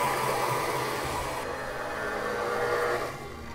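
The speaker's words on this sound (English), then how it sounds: "cream them together with the paddle attachment of our stand mix" A stand mixer with a paddle attachment creams butter and sugar for peanut cookies, giving a steady, loud motor whir with a broadband churning hiss that keeps on throughout and drops off slightly at the end.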